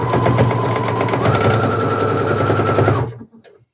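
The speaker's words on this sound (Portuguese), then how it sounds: "Seleciono a costura reta e o comprimento do ponto no número 3. E costuro." A domestic sewing machine runs a straight stitch at stitch length 3 through geometric-print cotton for a handbag, a loud, rapid, even mechanical whirr held for about three seconds before it stops abruptly, followed by faint handling noise.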